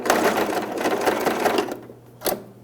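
A sewing machine backstitches a jeans hem in a fast, continuous burst of rapid stitching, then pauses briefly before a short final run of stitches.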